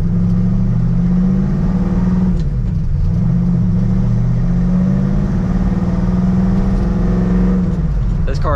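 A 1932 Ford Coupe's engine hums steadily from inside the cabin while driving, window cracked, its pitch dipping briefly as it shifts through the 5-speed Tremec manual, with a loud continuous low drone throughout.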